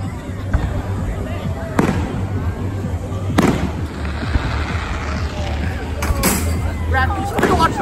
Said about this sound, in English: The fireworks are way more worth watching.